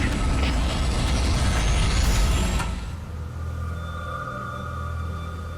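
A loud roaring rush of a crash landing in a Halo CE cutscene that cuts off sharply partway through, leaving a quieter rumble with faint tonal hums and no speech.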